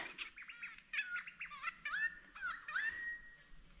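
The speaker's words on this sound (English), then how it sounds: "somewhere in that bush, I think it's a lyrebird" A bright, varied lyrebird song from nearby bush in Victoria, Australia: rapid chirps, trills and sliding whistled notes in quick succession, ending on a sustained whistle.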